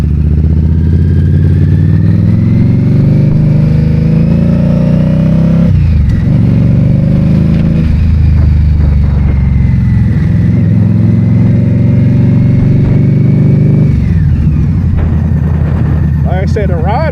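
An Indian Scout Bobber motorcycle engine drones steadily and loudly while riding, rising in pitch under acceleration with a gear shift dip partway through and another later, a voice talking over the ride.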